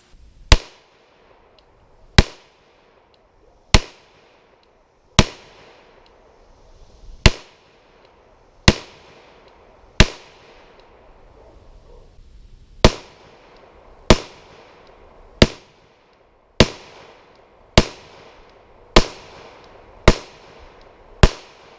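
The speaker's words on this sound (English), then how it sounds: "We're shooting at 7 yards, Freedom Munitions, 115 grain full metal jacket." Sharp pistol shots from a Glock 19 and an FMK 9C1 G2 9mm firing 115 grain full metal jacket rounds at a 7-yard range, about fourteen loud cracks at a steady pace, some with short reverberant tails, no talking.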